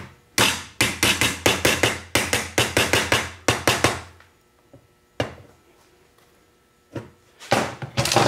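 Sharp metal hammer taps drive an old bearing race into a Tremec TKO 5-speed transmission: a rapid run of about a dozen close, loud strikes, a pause with a few isolated knocks, then another quick burst at the end.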